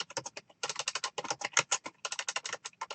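Someone types rapidly on a computer keyboard, close by and alone, producing dense bursts of crisp key clicks with a few short pauses.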